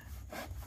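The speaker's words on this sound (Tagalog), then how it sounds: "Lagari lang ng lagari." A handsaw cutting through wood in steady back-and-forth strokes, close and moderately loud, with a rough rasping texture and no talk over it.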